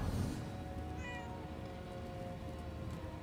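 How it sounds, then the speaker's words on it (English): A cat meows in the video game Murdered: Soul Suspect, a few drawn-out calls at moderate distance over a steady ambient game drone, with no talking. "Where'd the kitty go?"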